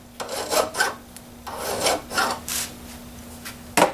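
A metal file rasps back and forth over the threads of a soft bolt, giving several distinct rubbing strokes with short pauses between them, close and fairly loud.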